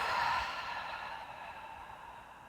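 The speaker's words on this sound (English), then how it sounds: "And releasing through the mouth." A single long breath released through the mouth during a guided breathwork exercise, soft and airy, fading over a couple of seconds with no talk.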